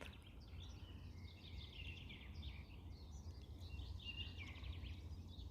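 Several small birds sing far off beside a forest road along the Tuskar river in the Kursk region, giving repeated chirps and brief trills above a constant low background rumble.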